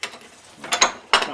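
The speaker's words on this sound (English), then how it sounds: "Now we're going to take the last of the bolts out." A ratchet clicks in a few short, sharp bursts while removing bolts on a BMW F650GS motorcycle, close and fairly quiet with small gaps between strokes.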